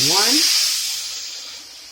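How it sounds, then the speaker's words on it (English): Water poured into a hot pan of browned rice erupts in a loud burst of hissing sizzle and steam, then slowly fades to a softer simmering hiss. "So now we're going to add the water."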